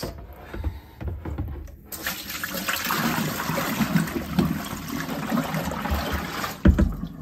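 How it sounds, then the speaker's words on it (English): Water pours and splashes out of a pot in a steady rushing stream for several seconds, close by, ending with a small clunk. "We're gonna dump this water out."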